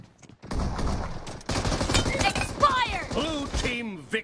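Gunfire in the PUBG Mobile video game, rapid loud bursts of shots rattling close by, mixed with a player's voice talking over the action.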